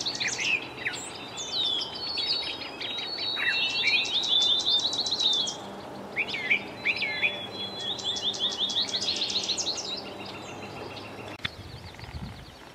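A house wren sings bright, bubbling trills and chattering phrases, often repeated twice, over a soft outdoor hum of insects, the bird fairly close and clear with brief pauses between bursts.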